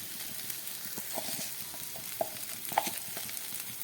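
Ginger, garlic, onion and green chili sauté in a pan with a soft, steady sizzle, punctuated by a few light clicks and taps of stirring; quiet and close, with no talking.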